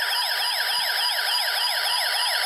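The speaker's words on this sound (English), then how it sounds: "when I do so, a siren sound will be produced" A shrill electronic siren from an E-Blox Circuit Builder toy circuit wails in rapid rising and falling sweeps, steady and loud, like a tinny police siren from a small speaker.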